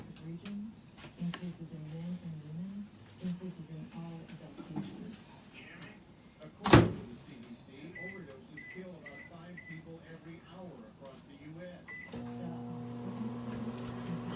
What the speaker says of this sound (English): we open up our microwave and put it in